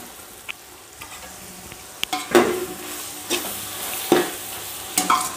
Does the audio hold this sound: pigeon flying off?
no